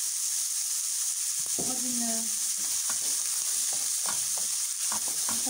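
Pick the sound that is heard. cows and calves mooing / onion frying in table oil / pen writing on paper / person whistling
onion frying in table oil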